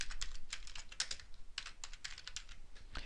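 Close-up computer keyboard typing while filling in a course template, a steady stream of rapid light key clicks with brief gaps, moderately loud and without speech.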